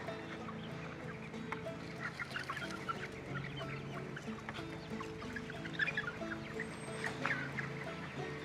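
Cornish Cross and Buff Orpington meat chickens, free-ranging and pecking at feed scattered on the ground, cluck steadily together as a close, busy flock.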